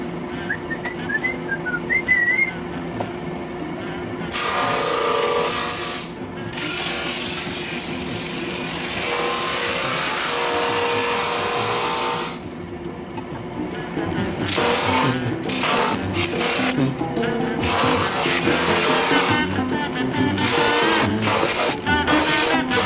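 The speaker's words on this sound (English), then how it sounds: "Brand new belt on that drum there. Now we can sand these things." A drum sander fitted with a brand-new belt sands flat wood cookie slices. A loud, harsh, close grinding roar starts after a few seconds, breaks off briefly, then comes back in uneven bursts.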